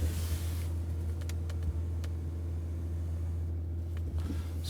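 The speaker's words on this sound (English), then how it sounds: "Even idling sounds fantastic in this car, it's crazy." A Mercedes S65 AMG Coupé with a V12 engine idles, producing a steady low, smooth rumble with a faint constant hum and a few small clicks, with no one talking.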